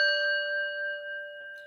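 A single bell is struck once and rings on clearly, its steady metallic tones sustaining and slowly fading across the clip, close and alone with no talking.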